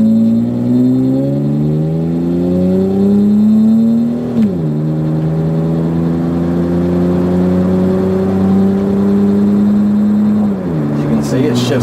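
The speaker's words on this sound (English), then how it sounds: "It shifts right through the gears," A tan 1995 Lexus ES 300 sedan accelerates from inside the cabin, its engine note rising steadily, dropping sharply at a gear change, then climbing again before another shift; loud, continuous drone close by.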